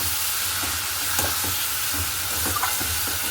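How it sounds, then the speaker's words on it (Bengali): Chicken pieces sauté in a pan with cumin powder, giving a dense continuous sizzle with soft stirring scrapes throughout, close and fairly loud, no talking. "জিরের গুঁড়ো ভালো করে কষিয়ে নিয়ে মাংসটা দিয়ে দেবো তো এই যে অল্প একটু মাংস তো ওটা কষিয়ে নিই"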